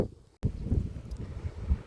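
Gusty wind buffets the microphone outdoors in the rain, with a low, rough rumble after a brief silent gap near the start.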